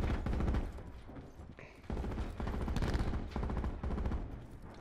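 Gunfire in the shooter game Call of Duty Black Ops 4: dense, loud bursts of rapid automatic shots with a brief lull near the two-second mark, then continuous firing again.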